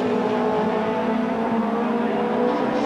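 Touring cars from the 1990 British Touring Car Championship, two BMWs chasing a Mitsubishi, race through Donington Park, their engines droning loud and steady throughout with a constant close roar and no speech.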